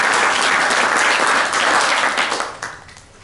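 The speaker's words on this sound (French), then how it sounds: "notre comité vous propose d'applaudir" An audience applauds warmly for volunteers at a society event, steady dense clapping that fades out toward the end.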